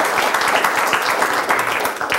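Audience applause at a public information workshop on an offshore wind energy project, a dense steady patter of many hands clapping close by, continuous for the whole stretch.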